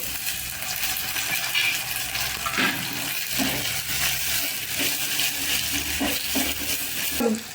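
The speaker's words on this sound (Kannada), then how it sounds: "ಚೆನ್ನಾಗಿ ಫ್ರೈ ಮಾಡ್ಕೊಳ್ಳೋಣ್ರಿ ಎಣ್ಣೆ ಒಳಗೆ ಉಳ್ಳಾಗಡ್ಡಿ" Onions, curry leaves and tomato frying in oil for a ridge gourd curry, giving a steady close sizzle with scattered stirring scrapes and clinks throughout, no voices.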